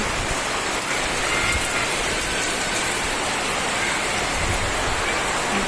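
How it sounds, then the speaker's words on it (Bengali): Steady rain pours down outdoors during a cloudy spell, a dense, even hiss of drops on the ground and surfaces that stays loud and unbroken throughout, with no voices. "দেখুন আবার বৃষ্টি শুরু হয়ে গেল"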